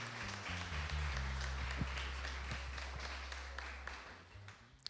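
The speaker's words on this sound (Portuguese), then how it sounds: "Aplauda ao Senhor, Deus Todo-Poderoso." A church congregation applauds during a worship service, steady broad clapping sustained under a low droning hum of organ or keyboard, with scattered louder claps rising above the wash for nearly five seconds.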